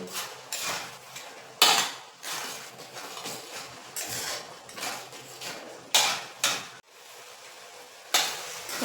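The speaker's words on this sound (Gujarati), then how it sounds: "બરાબર મિક્સ કરી લઈશું" Carrot halwa being mixed in a pan, with repeated loud metallic scrapes and clanks of a spoon against the pan in uneven bursts, close and without voices.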